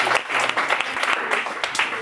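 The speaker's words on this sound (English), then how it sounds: "you can applaud yourself" Applause from an audience at a hackathon awards ceremony, dense steady clapping running through the whole short stretch with voices mixed in beneath it.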